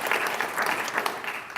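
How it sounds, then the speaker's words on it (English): A community meeting audience gives steady applause for a guest who flew in from Texas, a continuous wash of many hands clapping at moderate distance, with no talk over it. "we have to give Chad a particular round of applause"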